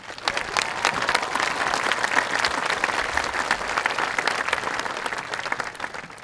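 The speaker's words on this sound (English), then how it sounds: "let's give them a round of applause" A high school graduation audience breaks into loud sustained applause, a thick crackle of many clapping hands that swells and holds for several seconds before easing slightly.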